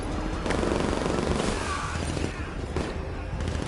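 Dense, rapid gunfire in the video game Batman Arkham Knight, loud sustained bursts layered with booms and crashes, with voices faintly mixed in.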